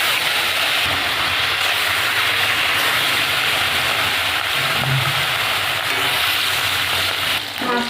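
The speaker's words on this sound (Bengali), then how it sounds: "মাছগুলো ভেজে নেব।" Pieces of rohu fish fry in hot oil in a wok, giving a steady, dense sizzle that crackles without pause for several seconds, close and fairly loud.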